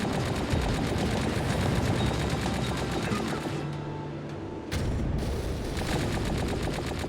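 Rapid, sustained machine-gun bursts from a turret in the game Tower of Fantasy, loud and steady, briefly dipping before resuming at full intensity.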